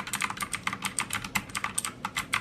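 Rapid clicking keystrokes on a cheap computer keyboard bought from Amazon, part of a gaming and streaming desk setup, with steady irregular taps close up and nothing else in the background.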